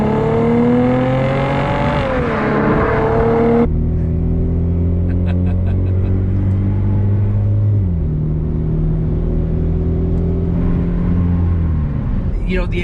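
A Mercedes-Benz C300 W204 accelerates hard on a highway, its engine note climbing steadily through the gears with clear pitch drops at each shift, loud and continuous from inside the cabin.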